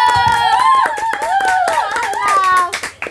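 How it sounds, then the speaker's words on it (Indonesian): Brief round of hand clapping from a small audience at an Indonesian talk-show gathering, mixed with children's voices and scattered speech over about three seconds. "kita beri tepuk tangan dulu"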